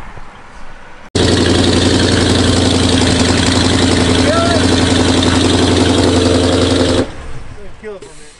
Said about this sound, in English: We got exhaust leaks. That's what it sounds like to me.